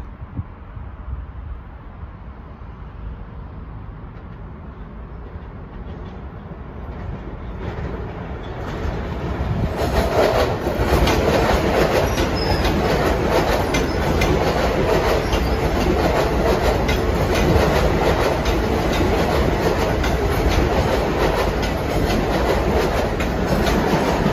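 A Long Island Rail Road train, Penn Station to Ronkonkoma, runs easily along track 1 at Elmont, its approach building from a low rumble into a loud, sustained roar with rhythmic wheel clatter.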